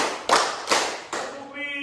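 A class claps in unison in a school classroom, three loud, even bursts of many hands about half a second apart, with a teacher's voice starting to speak at the end.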